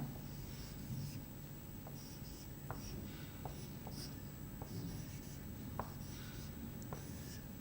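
A pen writes two-digit numbers on paper for a multiplication example, giving a quiet, steady scratching with small tapping strokes over a low background hum, with no voices.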